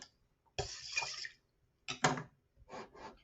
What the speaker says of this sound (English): I'm going to add about 3/4 broth and about 1/4 water.